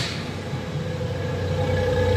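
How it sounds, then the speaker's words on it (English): A 1999 Suzuki Jimny's exhaust idles with a steady low engine rumble and a faint hum above it, continuous and close. "Let you hear the exhaust."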